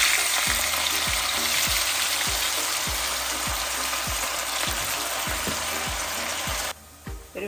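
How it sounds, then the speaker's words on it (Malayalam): Cauliflower frying in oil over medium heat for a restaurant-style dry gobi manchurian, a steady loud sizzle with regular soft stirring taps throughout, easing off near the end. "ഇനി നമുക്ക് ഈ കോളിഫ്ലവർ ഒന്ന് ഫ്രൈ ആക്കിയെടുക്കാം"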